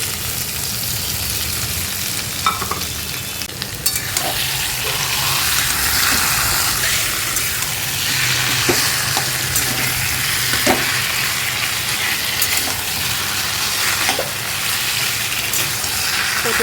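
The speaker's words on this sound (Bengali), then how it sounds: "তো দেখুন কচু শাক দিয়ে একটু নাড়াচাড়া করে নিই" Taro leaves fry loudly in a pan while being stirred, a continuous crackling sizzle with occasional scraping knocks of the spoon and a low hum beneath.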